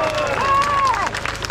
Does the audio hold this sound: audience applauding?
yes